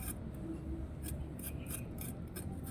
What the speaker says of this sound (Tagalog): Kudkudin mo lang ng matalas na kutsilyo.